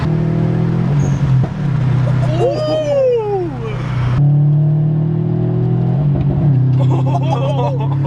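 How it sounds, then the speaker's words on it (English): A 2014 STI with a Cobb downpipe revs hard and rises in pitch through quick flat-foot gear changes, with voices talking over the rumble. "That flat foot shifting sounds so good."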